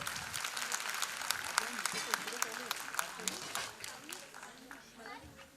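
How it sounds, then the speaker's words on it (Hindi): An audience at a women's leadership conference in Nagpur applauds a Shiv Shakti Akhada performance: a crowd of sharp, rapid claps runs under a speaking voice, then tapers off toward the end. "एक बार पुनश्च तालियां बजाइए"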